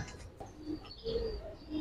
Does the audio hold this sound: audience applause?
no